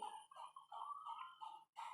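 A dog in the horror video game Granny gives a run of close, fairly loud whimpering yelps and barks, broken by a short pause before one last burst.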